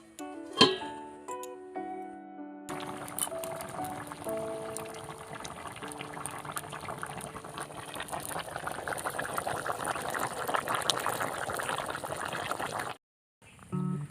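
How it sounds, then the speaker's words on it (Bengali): Fish curry with potatoes boils in a covered pot, its bubbling building from faint to a dense, steady burble before cutting off abruptly near the end. "এবার আমরা ঢাকা দিয়ে দেবো কিছুক্ষণ ফুটিয়ে নেওয়ার জন্য"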